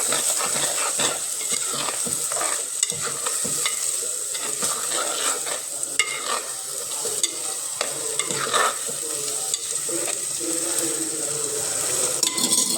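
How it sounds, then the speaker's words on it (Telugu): A utensil stirring village-style tomato fish curry in a pan, a continuous close sizzle broken by repeated scraping and clinking strokes against the metal, steady and busy over the whole stretch. "మళ్ళీ ఒకసారి కలుపుకుంటున్నాను."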